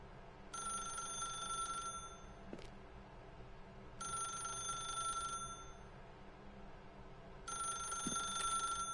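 A telephone rings in the video game The Stanley Parable, with three evenly spaced electronic rings separated by short pauses, each ring a bright, trilling bell sound heard clearly over a faint background hum.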